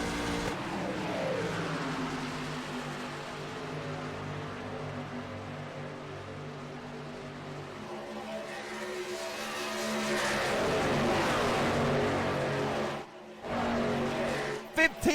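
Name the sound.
race trucks accelerating in a racing video game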